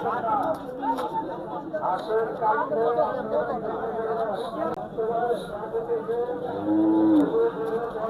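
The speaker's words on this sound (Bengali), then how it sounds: "অনেক সুন্দর দুইটা গরু" Cattle low and moo amid a busy livestock market in Cumilla, Bangladesh, before Eid al-Adha, with crowd chatter and voices talking throughout; one loud moo rises near the end.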